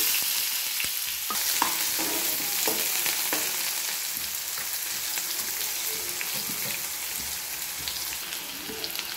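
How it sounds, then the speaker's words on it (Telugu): Chopped onion pieces sizzle in hot oil with tempering spices for a potato and cucumber curry, a close, steady frying hiss with brief crackles and stirring clicks, and no talk. "ఉల్లిపాయ ముక్కలు వేసుకుంటాను."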